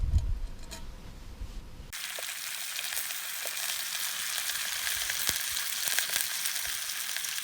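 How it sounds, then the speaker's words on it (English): Steady, crackling sizzle of eggs frying in a small pan over an open campfire outdoors, close and continuous, with faint pops over a low hiss after a brief quieter start. "I'm pretty good at cooking the old fried eggs on an open fire in this little frying pan."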